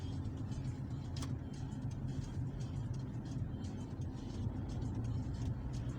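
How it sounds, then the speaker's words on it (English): A Toyota Kluger accelerates while being driven, heard from inside the cabin as a steady low engine and road rumble with a faint brief click partway through, no voices. "I hit more gas now."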